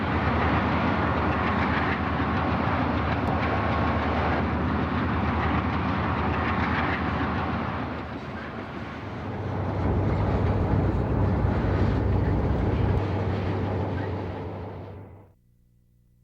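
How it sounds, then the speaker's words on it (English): WP GE U-boat and SP&S Alco Century four-cycle diesel locomotives rumble past with a steady loud drone, deep engine throb and rail clatter, the tone shifting midway as a second engine dominates, then cutting off abruptly near the end. "Listen to the difference between the WP's GE engine and the Alco Century"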